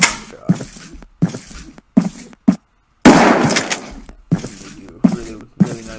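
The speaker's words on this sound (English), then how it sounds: "The shotgun's meant to take these guys out" A shotgun fires in the video game Sanctum: about eight loud, sharp blasts, each with a short decaying tail, spaced irregularly with a brief silent gap in the middle.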